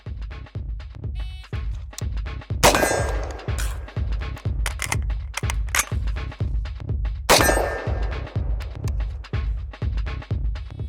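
Rifle fire at a steady cadence, each sharp shot followed by metallic clangs as rounds hit steel targets, with louder ringing impacts near 3 and 7 seconds.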